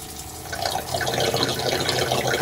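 Water pours steadily and continuously into a through-hull hose on a 33 Hydra-Sport boat with twin Yamaha F350 outboards during winterizing, a close, even splashing stream.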